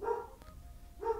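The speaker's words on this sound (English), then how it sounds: "that's my dog, by the way. In the background." A dog in the background gives two short, muffled barks separated by a brief pause, faint and distant in an indoor room.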